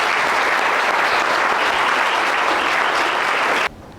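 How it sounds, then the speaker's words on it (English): Audience at a youth justice conference in Brisbane applauding the brothers, dense steady clapping for nearly four seconds before cutting off abruptly, no voices. "get a round of applause for the brothers"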